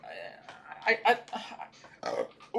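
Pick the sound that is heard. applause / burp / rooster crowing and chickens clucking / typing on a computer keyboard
burp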